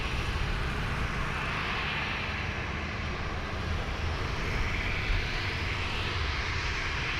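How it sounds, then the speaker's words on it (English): An Alliance Airlines Embraer 190 jet lands on runway 34 left at Sydney airport, giving a steady, even engine roar that carries from start to finish with no talking. "the Alliance Airlines Embraer 190. Just arrived there on runway 34 left."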